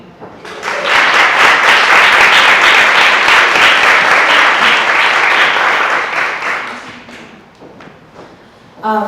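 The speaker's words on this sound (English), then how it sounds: "Please join me in applause to thank both the panelists." An audience at a Women's Veterans Day celebration gives the panelists loud, sustained applause that swells quickly, holds for several seconds, then thins out to scattered claps.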